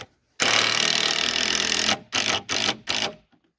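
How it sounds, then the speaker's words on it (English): A small Porter Cable impact screwdriver driving screws into wood for homestead steps: one long loud burst of rattling impacts followed by three short quick bursts, close and alone. "I have an impact screwdriver that I'm using. This is a little Porter cable we brought a while back."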